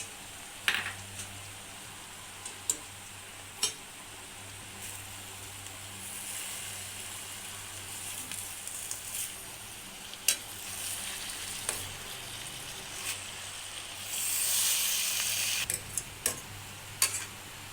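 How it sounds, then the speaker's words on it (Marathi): Soaked moong dal stirred into a pan of frying dill and spinach bhaji, a soft steady sizzle close by, punctuated by sharp clicks and scrapes of a spoon against the pan. "आता यामध्ये साधारण दहा मिनटे भिजवलेली मुगाची डाळ टाकूया आणि हे सर्व व्यवस्थित मिसळून घेऊया"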